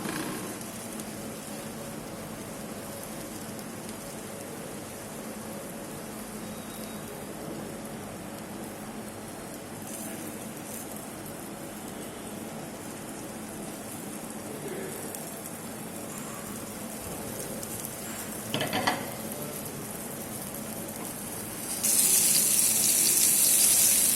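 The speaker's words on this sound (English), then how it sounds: "Now I am just putting it on the pan." Floured cottage cheese (paneer) frying in a pan gives a steady, even sizzle that runs all the way through, with a brief clatter near the end and a louder hiss in the final seconds.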